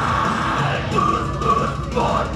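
Loud, continuous screaming and yelling fill a metal karaoke night at De Doelen, a dense, raw roar of voices with a crowd din underneath, sustained without a break.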